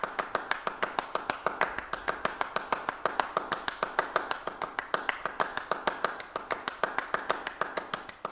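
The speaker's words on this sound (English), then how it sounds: "The initial grouping of claps is 3, 2, 1, 2, but after 12 repetitions, one of the players moves one beat ahead." Two performers clap Steve Reich's Clapping Music, a dense, steady train of sharp handclaps in a repeating 3-2-1-2 grouping, with one player shifting a beat ahead in a phasing pattern; close and unaccompanied.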